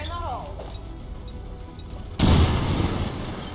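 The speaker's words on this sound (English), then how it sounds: "And so we blow ourselves a nice new hole in the wall." A grenade blast in XCOM 2 tears a hole through a wall: a sudden loud, close crashing boom cuts in after a stretch of quieter game ambience, then rumbles with debris for over a second.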